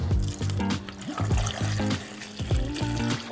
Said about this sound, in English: it starts off just with the whole potatoes just going in here.